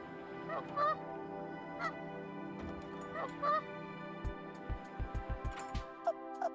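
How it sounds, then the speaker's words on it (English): A goose in the zoo game Let's Build a Zoo honks in several distinct calls spread across the moment, with thumping beats and a steady game hum beneath and no talking. "This must be our new goose."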